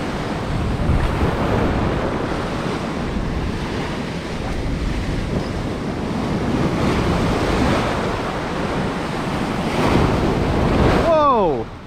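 Rough ocean surf breaking on a beach while fishing, a continuous loud roar of waves with heavy wind buffeting the microphone and a brief voice near the end.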